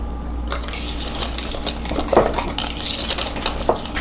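Melted butter and milk are whisked together in a bowl for quick bread, quick metallic tapping and rattling clinks of the whisk against the bowl over a low hum, close by, with no voices.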